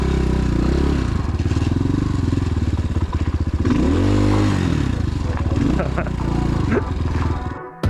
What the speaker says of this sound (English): ice is the least fun thing to use on a dirt bike. You can tell I'm just sliding around like crazy.